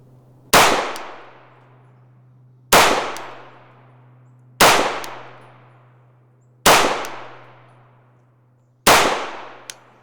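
Five loud, sharp pistol shots of Hornady 115 grain Critical Defense ammunition, evenly spaced about two seconds apart, each with a ringing decay and a low steady hum underneath.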